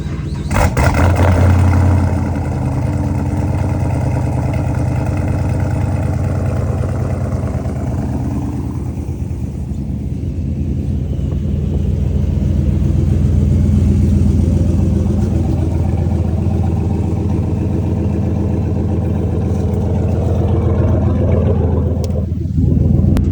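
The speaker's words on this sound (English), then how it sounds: "Let me get that cold start real quick." A Dodge SRT8 fires up from cold with a loud burst, then settles into a deep, steady, rumbling idle that holds close and strong for the rest of the clip.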